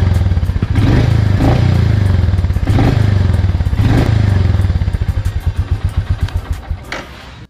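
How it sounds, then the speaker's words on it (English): A Royal Enfield Meteor 350 motorcycle engine runs close up with a steady thumping idle and a few periodic surges, then winds down into slowing individual pulses as it shuts off. "Turn it on and hear the engine's smooth rumble."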